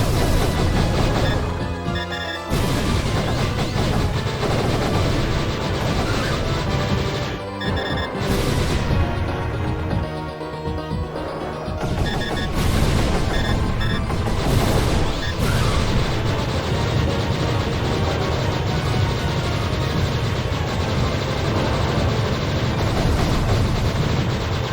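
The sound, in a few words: gunshots in a video game dragon boss fight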